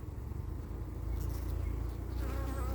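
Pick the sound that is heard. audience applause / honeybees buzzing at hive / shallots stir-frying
honeybees buzzing at hive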